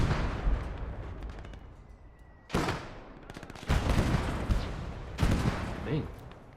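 Heavy gunfire and artillery-like blasts from the World War II game Gates of Hell: Ostfront, Finland campaign, hit in loud sudden bursts over rumbling battle noise, with a voice talking at times.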